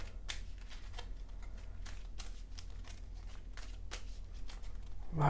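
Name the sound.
shuffling Marvel Champions cards into the deck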